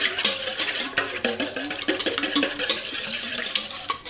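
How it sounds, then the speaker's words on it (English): Four eggs are whisked briefly in a bowl for a pecan pie bar filling: quick rhythmic scraping and tapping strokes, close and steady, with no voices. "I have got 4 eggs, and I'm just gonna give those just a little whisk"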